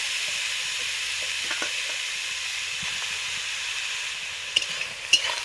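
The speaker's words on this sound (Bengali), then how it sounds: "গ্রেট করা গাজরটা দিয়ে দিচ্ছি।" Grated carrot frying in a pan for carrot halwa gives a steady, close sizzle throughout, with a few brief stirring scrapes and clinks near the end.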